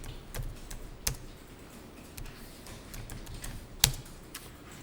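Quiet typing on a computer keyboard in an accounting class, light irregular key clicks with a couple of sharper taps, close and soft with no talking.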